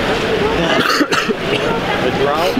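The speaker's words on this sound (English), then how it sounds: "I keep coughing" A short cough breaks through steady, loud background noise at a crowded convention event, with a few throat sounds around it.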